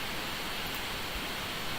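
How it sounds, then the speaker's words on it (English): Unprocessed white noise effect from a sample library, a steady, even broadband hiss at moderate level with no rhythm or voices, holding flat throughout. "I've got some more white noise here."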